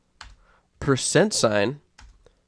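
Computer keyboard keys tap in short clicks, one burst at the start and another near the end, with a person speaking between them.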